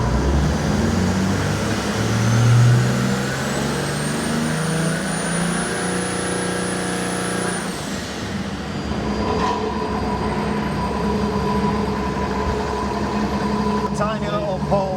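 A Mercedes OM606 diesel crate engine for a Land Rover runs on a Superflow dyno. It drones loudly and steadily, a turbo whine rises and then falls away, and voices talk over it.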